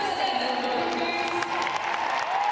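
A stadium crowd of just over 40,000 at a Manchester City women's football match against United keeps up a steady, dense roar of cheering and applause that fills the whole stretch without a break.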